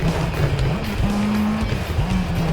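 A rally car in the Sega Rally video game on a muddy tropical track: a loud, steady engine drone that rises and falls with gear changes over rough tire noise, close and continuous.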